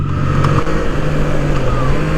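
Triumph Trident 660 motorcycle on the road, its steady engine note droning loud and close under constant wind rush, with a slight shift in pitch partway through.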